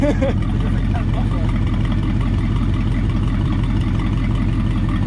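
A Ford Flathead V8-60 in a hot rod idles with a continuous low, rumbling throb, loud and close, while people talk over it.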